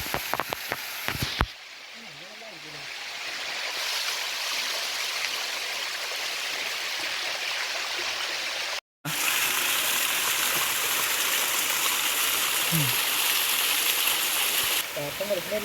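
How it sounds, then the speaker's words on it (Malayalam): A stream rushes steadily in an outdoor natural spot with a constant broadband wash of flowing water, loud and near, with a person speaking over it briefly. "വെള്ളത്തിന്റെ സൗണ്ട് കാരണം."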